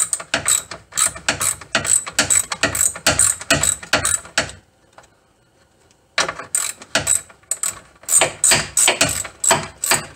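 Hand ratchet cranking 13 mm bolts on a C4 Corvette being lowered, loud rapid clicking in long bursts, pausing for about two seconds midway before resuming.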